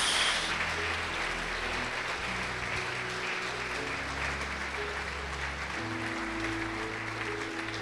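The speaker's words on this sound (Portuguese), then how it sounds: "Quem precisa de vida abundante, pode aplaudir o Senhor e glorificar a Deus." A church congregation applauds during a sermon, a steady dense wash of clapping that holds at an even level for the whole stretch, with faint voices underneath.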